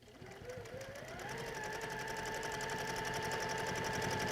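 Sewing machine stitching a quilt block seam, a close, steady whirring hum with a fast rhythmic needle chatter that rises in speed and pitch, then holds.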